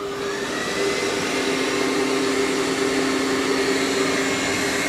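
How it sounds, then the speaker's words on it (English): A Dreame L40 Ultra robot vacuum runs steadily over carpet with its mop pads lifted, giving a loud, continuous motor whine and airy suction roar with a sustained tonal hum, unbroken and close for the whole stretch. "it's going to vacuum that carpet."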